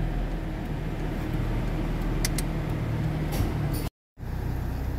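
A Toyota Innova engine idles steadily after starting, a low continuous rumble that briefly cuts out before resuming.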